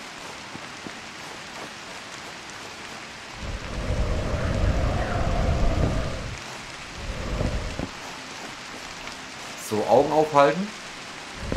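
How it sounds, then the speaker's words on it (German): Rain falling in the video game Citadel Forged with Fire: a broad, rushing wash that swells loud for a few seconds with a low rumbling undertone, then eases off before someone speaks briefly near the end. "Es regnet auch noch."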